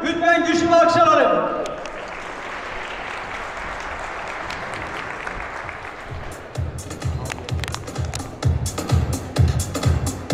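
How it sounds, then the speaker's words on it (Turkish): Audience at a professional kickboxing match in Tokat, first a loud voice over the speakers, then steady clapping from the crowd that grows into rhythmic unison claps and cheers, with more voices calling over it. "her iki başkentli sporcularımıza lütfen güçlü alkışlar alın"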